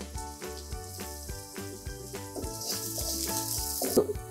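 Chopped onion hits hot oil for aloo manchurian, giving a soft, steady sizzle with a brief stirring scrape near the end, under rhythmic background music.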